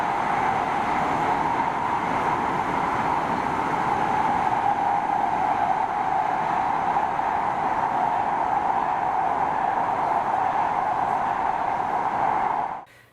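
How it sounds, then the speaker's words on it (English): A Type 1 MAX light rail train runs through the Robertson Tunnel, a loud, steady rushing roar with a sustained tonal hum that stays constant throughout before cutting off at the end. "through the Robertson Tunnel, these trains are loud."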